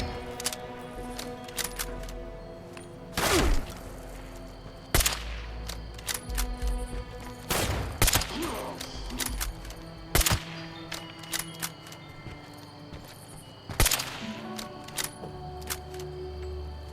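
Scattered gunshots from the video game Fallout 76 crack out singly and in short pairs at irregular intervals over a low, humming game ambience, no talking.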